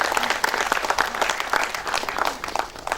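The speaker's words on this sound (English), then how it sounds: "Give all our panelists a big round of applause," An audience applauds the panelists at a film festival in-conversation session, steady dense clapping filling the hall throughout at a fairly loud level.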